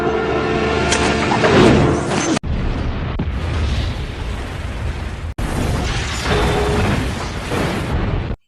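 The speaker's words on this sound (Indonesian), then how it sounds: "kapal itu pun meledak." In the film Ghost Ship, a ship explodes in a series of loud, dense booms and roaring blasts, broken by brief abrupt cuts and ending sharply.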